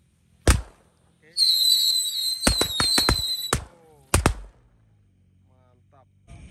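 Tikusan ground-spinner firecrackers arranged in a circle and lit on a Ramadan night: sharp, loud bangs, a shrill spinning whistle that lasts about two seconds with cracks cutting through it, and a final pair of pops.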